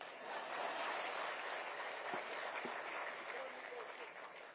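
An audience applauds at a speech during a key-handover event for the BDD chawl redevelopment, a sustained, fairly distant clapping that holds steady for several seconds before tapering slightly.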